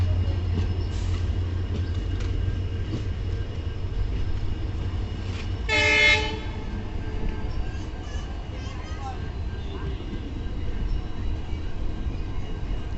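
The Kazipet–Dadar special train pulls into Karimnagar railway station on its first run, a continuous low rumble of rolling coaches with one loud horn blast partway through, while people talk nearby.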